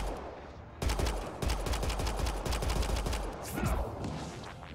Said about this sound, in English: I'm gonna use my pistol though just to save ammo.